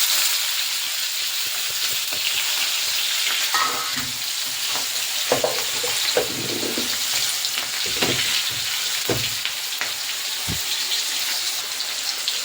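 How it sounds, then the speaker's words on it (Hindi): Steady, loud sizzling of onion and chili frying in a hot pan, with occasional scraping and clinks from stirring and no voices. "अब इसमें डाल देता हूँ प्याज और कटी मिर्च।"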